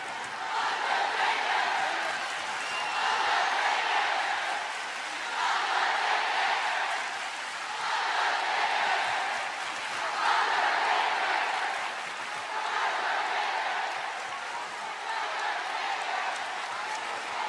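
Capacity WWE arena crowd in Philadelphia, Pennsylvania cheering and applauding, a dense roar that swells and ebbs in rhythmic waves like a chant throughout.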